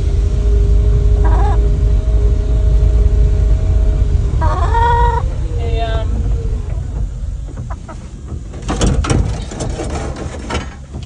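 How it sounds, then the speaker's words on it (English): Chickens cluck and a rooster crows over a steady low rumble of outdoor noise on a farm in Patoka, Hawke's Bay, New Zealand, the day after Cyclone Gabrielle, with a few sharper calls near the end. "we're gonna go feed the chickens"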